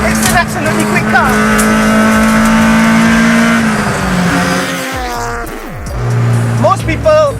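A Honda EF race car with VTEC revs hard in second gear toward 8,000 RPM, a loud rising engine wail that drops off sharply as it shifts, with talk over it.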